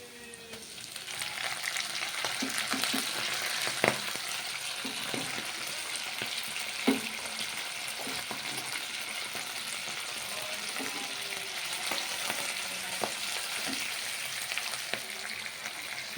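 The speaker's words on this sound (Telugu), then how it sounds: "మెంతికూర నూనెలో వేయాలండి." Fenugreek leaves frying in hot oil in a pan, a continuous close sizzle with occasional light stirring knocks, steady throughout.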